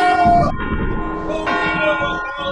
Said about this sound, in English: alarm bells